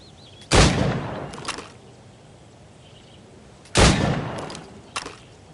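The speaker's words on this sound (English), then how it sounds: "Shoot these targets." Two loud, sharp gunshots fired at targets in a video game, spaced about three seconds apart, each with a short echoing tail and a faint extra click after it, over a quiet background with no talk.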